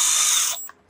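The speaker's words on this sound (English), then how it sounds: "So then I use the 24 karat gold ratchet here to slightly tighten these down" A gold ratchet wrench snugging cylinder bolts on a Rotax 787 engine gives a close, hissing burst of metallic clicking, then a couple of faint ticks as it stops.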